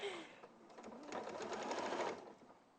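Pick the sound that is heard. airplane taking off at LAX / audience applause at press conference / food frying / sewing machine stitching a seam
sewing machine stitching a seam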